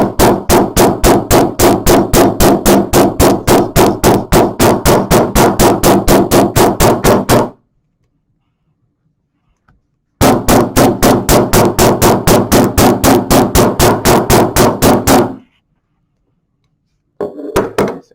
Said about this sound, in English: I'm hammering right where the seam is.